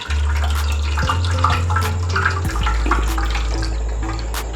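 Washed minced meat and water poured onto a fine cloth-lined strainer at home, a steady close rush of splashing, draining water running for several seconds without speech.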